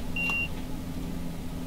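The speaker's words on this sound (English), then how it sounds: "release the pedal and press it again to satisfy this alarm" Train Sim World vigilance alarm on a UK train safety system: a single short, clear electronic beep near the start, then a steady low cab rumble with no further tones.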